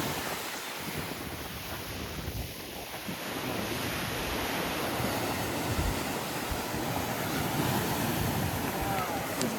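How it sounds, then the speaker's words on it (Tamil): Ocean waves crash and wash continuously onto the beach at Pondicherry, a broad rushing roar with wind buffeting the microphone, fairly loud and steady throughout. "இவ்வளோ அலை அதிகமாக அடிக்குது"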